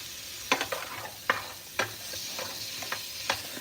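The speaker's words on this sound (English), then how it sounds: "We're just doing a little bit of olive oil on our onions" Onions fry in olive oil with a soft continuous sizzle, broken by repeated sharp utensil scrapes and taps as they are stirred, spaced roughly every half second to second.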